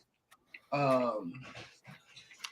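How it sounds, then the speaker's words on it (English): A dog pants and whimpers briefly at close range indoors, breathy bursts mixed with people talking over a casual conversation. "No, those are my mom's dogs."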